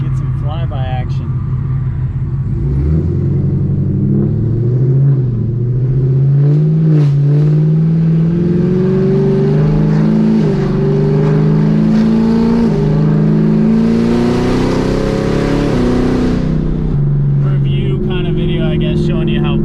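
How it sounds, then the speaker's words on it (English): A 2018 Camaro ZL1 with Kooks long tube headers and no mufflers roars past, its loud exhaust rising in pitch through hard acceleration and peaking in a rushing flyby, with people talking excitedly over it. "Showing you how fucking loud this exhaust is, bro."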